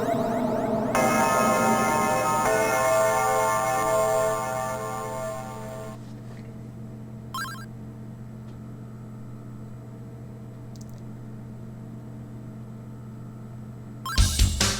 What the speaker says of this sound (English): enjoy the sweet sound of the bell's last